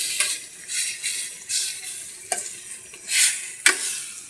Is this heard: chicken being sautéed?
yes